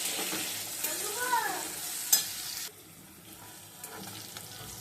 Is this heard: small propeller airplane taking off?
no